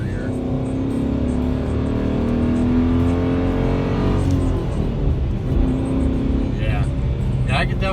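A Dodge Challenger R/T fitted with a strut tower brace rumbles steadily through a turn, its engine loud and close from inside the cabin while someone talks over it.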